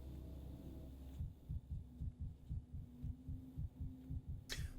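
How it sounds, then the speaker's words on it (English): Fast heartbeat in Pathologic 3: rapid, regular low thumps, about three per second, begin after a short hum and continue steadily and close, ending with a brief sharp noise. "Heartbeats too fast."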